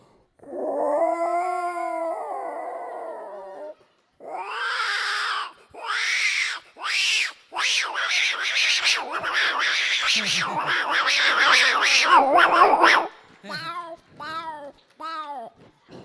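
A man vocally imitates two cats fighting, producing a long drawn yowl followed by a run of sharp, rising screeches and hisses, then short wavering meows, loud and close with no other sound.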